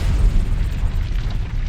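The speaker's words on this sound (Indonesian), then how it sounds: "Bongkahan besar basal terbang menjauh dari pusat ledakan." A huge explosion on the surface of Venus hurls large chunks of basalt crust. It sounds as a continuous loud, deep rumbling roar with no voices.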